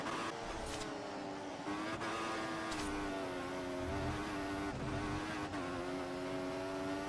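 A GP3 race car at the British round, engine droning steadily with gear-change and braking dips as it chases close behind another car, loud and continuous with no talk.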